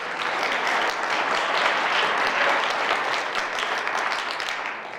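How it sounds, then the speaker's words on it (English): Audience applause at a young men's leadership conference hosted by a fraternity, a steady, dense roar of many hands clapping throughout, loud and continuous without clear talk. "so clap it up for that as well, clap it up for that as well"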